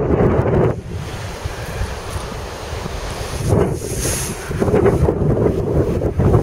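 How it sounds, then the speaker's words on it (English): Strong northeast wind at sea, about 15 knots, roars across the microphone in loud buffeting gusts, with waves and water washing steadily underneath throughout. "It's blowing about 15 out of northeast."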